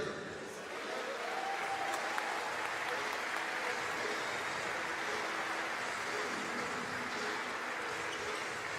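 Steady, dense applause from an audience at the close of a cesta punta final, a Basque pelota evening event, filling the space evenly and continuously with no voices above it.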